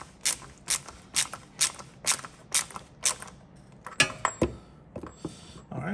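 A 27 mm socket ratchet tightening the drain plug on a 2022 Ford Explorer ST: a series of sharp clicking bursts at a steady, quick rhythm, close and clear, followed by a few scrapes and clinks.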